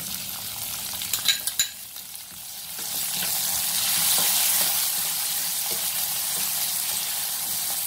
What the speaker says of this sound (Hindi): प्याज को हम गोल्डन ब्राउन होने तक भून लेते हैं